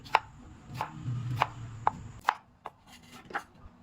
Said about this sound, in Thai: เสร็จแล้วนำมาหั่นเป็นท่อนพอประมาณ